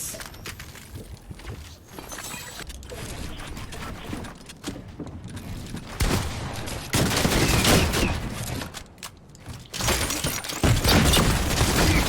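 Bursts of automatic gunfire in the video game Fortnite, loud rapid volleys that grow heavier in the second half, separated by short gaps, with no voices.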